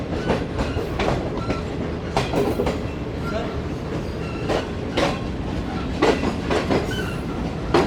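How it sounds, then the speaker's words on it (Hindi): The 10 Down Allama Iqbal Express approaching Kotri Junction, a loud rumbling passenger train with rhythmic clickety-clack of wheels over rail joints and brief squeals, close by and continuous. "AG20 के साथ एक अदर ट्रेन भी अप्रोच बना रही है कोटरी जंक्शन पर।"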